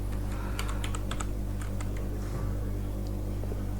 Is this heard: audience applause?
no